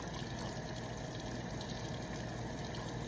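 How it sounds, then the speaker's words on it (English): Hands being wet and washed with soap under a running tap, a continuous close rush of water that stays steady and fairly quiet throughout, with no talk. "So I'm gonna wet my hands and then get soap and wash my hands for 20 to 30 seconds."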